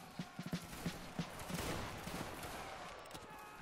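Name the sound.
musket volley fired by line infantry in Roblox video game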